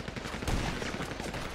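Gunfire in GTA Online, a quick burst of overlapping shots with a heavier thump partway through, loud and close over game background noise.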